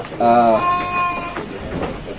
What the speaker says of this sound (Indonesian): Di depan saya ini ada domba Garut